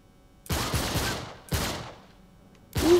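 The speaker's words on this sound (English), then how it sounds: "Who is shooting?" Bursts of gunfire in the Uncharted 3 video game, three loud volleys of rapid shots about a second apart, each trailing into echo, with no talk.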